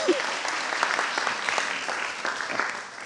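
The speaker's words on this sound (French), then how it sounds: "On l'applaudit." A conference audience at a closing session of a science-outreach congress breaks into dense, sustained applause lasting the full few seconds, with a brief voice at the very start.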